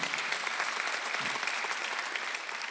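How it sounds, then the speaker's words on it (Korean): A church congregation claps steadily throughout a Sunday service, a dense and even wash of applause with no voices standing out. "박수하세요. 긍휼과 배려가 함께 있다."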